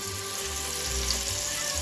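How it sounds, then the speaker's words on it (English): Chuck roast searing in a pot for beef bourguignon, a steady, close, dense sizzle of meat browning in hot fat, continuous and even throughout with no talking. "Next, you want to take your chuck roast and then roast each of the sides."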